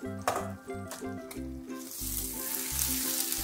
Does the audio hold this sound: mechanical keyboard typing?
no